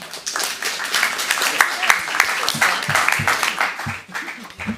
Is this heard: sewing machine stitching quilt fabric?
no